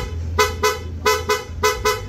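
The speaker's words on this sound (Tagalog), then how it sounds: "PIA horn rapid." An aftermarket PIA horn fitted to a Honda ADV160 scooter blasts in rapid mode, three pairs of quick, loud, bright toots in an even stuttering rhythm, close by.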